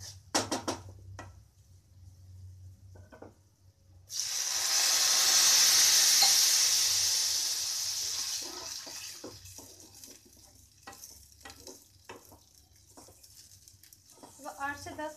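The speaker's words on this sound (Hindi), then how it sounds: "अब इनमें दूध डाल दूंगी।" Milk poured into browned, roasted vermicelli in a hot pan hits with a loud hissing sizzle that slowly fades, with some clinks and someone talking before and after.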